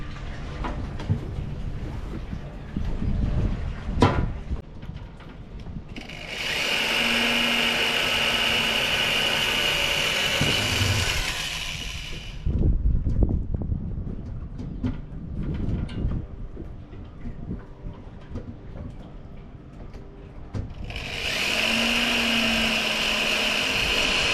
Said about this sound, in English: Now I'm drilling the 1/4-inch holes that